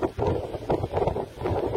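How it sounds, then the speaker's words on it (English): Strong outdoor wind buffeting and rumbling against the microphone in uneven gusts, close and steady for under two seconds. "Well, windy."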